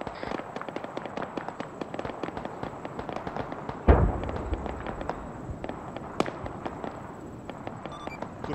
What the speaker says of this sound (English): Good bomb. Nice and accurate.